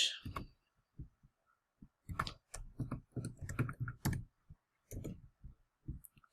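Someone types on a computer keyboard while entering grocery prices into an Excel spreadsheet, producing irregular bursts of close, crisp key clicks with short pauses between them.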